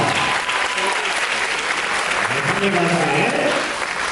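Audience applause for an award winner at a tap dance festival awards ceremony, steady dense clapping filling the room throughout, with a voice speaking over it near the end.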